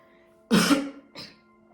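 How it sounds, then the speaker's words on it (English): A single close, rough cough followed by a smaller second cough or throat clear, in an otherwise quiet room. "This has never happened where I keep coughing and coughing and coughing."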